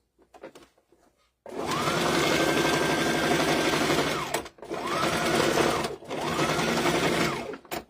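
An industrial sewing machine in a shop stitches a seam in tactical nylon fabric, three close, loud bursts of rapid mechanical whirring separated by short pauses, after a few faint clicks as it is set up.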